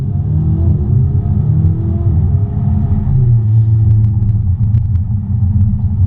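A turbocharged V8 Ferrari 488 GTB engine rumbles loudly and deeply at close range, holding a low, throaty tone with slight shifts in pitch and no talking.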